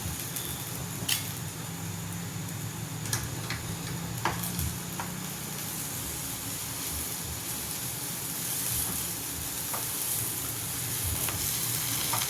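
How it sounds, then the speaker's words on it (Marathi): Fenugreek leaf zunka frying in a pan on medium heat and being stirred, a constant close sizzle with scraping stir strokes and occasional sharp ticks from the spoon against the pan. "अशा प्रकारे फिरवत राहायचं"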